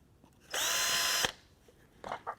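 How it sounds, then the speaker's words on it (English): A power drill whines loudly for under a second, boring into hard walnut, then stops; brief faint noises follow. "This what I'm drilling on now is a real hard walnut"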